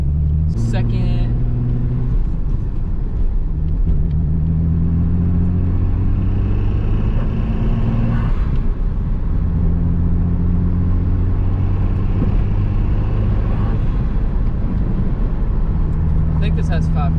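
A Mitsubishi 3000GT pulls away with a deep V6-like drone, engine pitch climbing through gear changes from inside the cabin, steady and loud under occasional voices.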